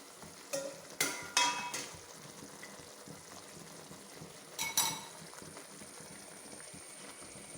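A Kerala ginger curry simmers in a pan with a faint, steady bubbling hiss, broken by a few sharp clinks of a utensil against metal, all quiet and near.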